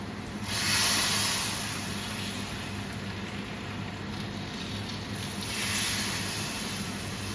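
Well-fried tempering is poured into a pot of sambar and sets off a steady hissing sizzle. The sizzle swells loud at the start and again near the end, with no talking.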